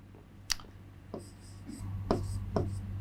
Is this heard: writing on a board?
yes